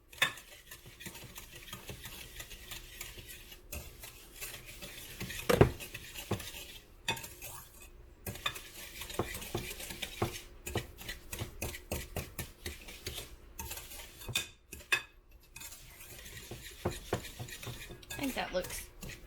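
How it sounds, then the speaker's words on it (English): A Danish dough whisk stirring brownie batter in a bowl, a steady scraping and thudding of thick mixture with occasional clinks against the bowl, close and continuous. "This is the first time I've got to use my new Danish whisk that I bought"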